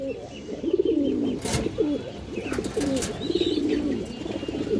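A pair of Pakistani Rampuri high-flyer pigeons coo in a steady run of low, rolling calls, close and clear over a faint background hiss, with a brief higher chirp partway through.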